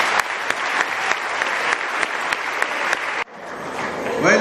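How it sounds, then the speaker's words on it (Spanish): A large crowd at a World Youth Day catechesis session in Panama gives warm applause to those who gave testimony, dense clapping with sharp individual claps standing out, then abruptly fading to quieter crowd noise. "Se merecen un caluroso aplauso"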